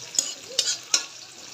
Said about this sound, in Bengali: তেলটা গরম হয়ে গেছে, দিয়ে দিব পেঁয়াজ কুচি। পেঁয়াজ কুচিগুলো আমি ভেজে নেব।